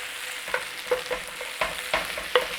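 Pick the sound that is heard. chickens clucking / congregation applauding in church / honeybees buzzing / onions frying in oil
onions frying in oil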